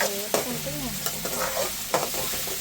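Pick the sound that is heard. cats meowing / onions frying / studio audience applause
onions frying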